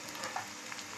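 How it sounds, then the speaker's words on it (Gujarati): Sesame seeds sizzle in hot oil with garlic and green chillies for a vagharelo rotlo tempering, a soft, steady crackle with a few brighter pops over one second. "સેજ વાર હલાવી ત્યારબાદ તરત જ આપણે તલ નાખીશું."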